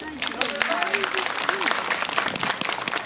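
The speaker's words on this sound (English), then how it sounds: "when I say clap, you've got to clap as loud as you can" A crowd at a Wheel of Death stunt show claps loudly and continuously, dense and close, while a presenter's voice talks over the start.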